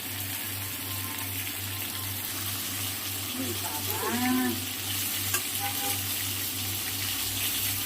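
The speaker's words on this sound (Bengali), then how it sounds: "আমি মাছ ভাজাটা বসিয়ে দিয়েছি" Fish frying in a pan makes a continuous sizzle over a steady low electrical hum, with a faint animal-like call in the background midway.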